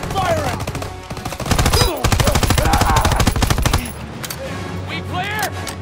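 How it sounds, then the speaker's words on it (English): Dense automatic gunfire in the World War II shooter Call of Duty WW2: rapid, loud, close bursts of machine-gun and rifle fire for several seconds, then thinning out, with voices shouting over it. "Keep firing!"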